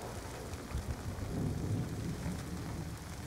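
Rain pours steadily with deep rolling thunder rumbling through it in the Black Ops 2 campaign, a dense, continuous storm wash that swells briefly in the middle and carries no talk.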